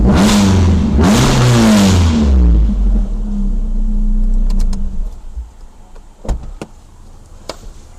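A Honda Civic EF converted to EF9 spec with a VTEC engine revs loudly and close, the pitch rising and falling, then it settles to a quieter idle with a few sharp clicks and knocks.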